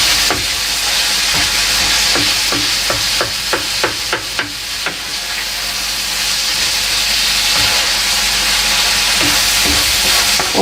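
Minced meat browns in a pan for a mashed potato dish, hissing and sizzling steadily and loudly while a utensil scrapes and clacks against the pan in quick repeated strokes, mostly in the first half, with no talking.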